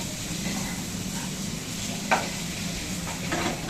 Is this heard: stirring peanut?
yes